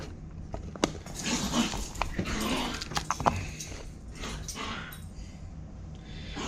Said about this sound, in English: dogs are playing in the background